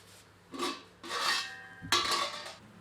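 A ladle works through Kolhapuri chicken in a pot, giving three separate scraping, rasping strokes against the metal, fairly close and moderately quiet, with short pauses between them.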